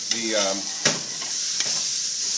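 Onion, bell pepper and celery sauteing in a pot for beef stew: a steady close sizzle with a few brief stirring scrapes, no speech.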